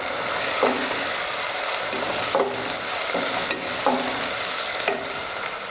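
Spiced masala fries and sizzles in a pan while a spoon stirs it in regular strokes, each scrape standing out above a steady close hiss; nobody speaks.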